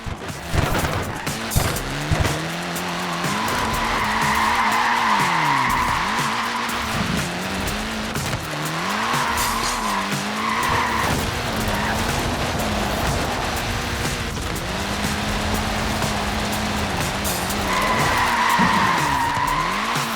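In the racing game Forza Horizon 4, a small car with tiny tyres skids, its tyres squealing in long, loud, wavering screeches over a steady engine drone that runs throughout.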